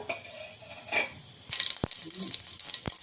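Mustard seeds hit hot oil while tempering dal: a sudden loud sizzle and crackle breaks in partway through, with a few sharp pops and utensil clinks, after some quieter kitchen handling.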